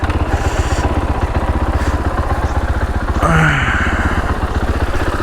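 A Fantic Caballero 500 flat tracker motorcycle idles nearby with a steady, loud single-cylinder thump that lasts throughout, and a brief rise in revs partway through.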